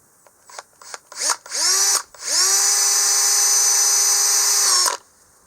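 A power drill whirs close by, a few short bursts at first, then a long steady run before it stops.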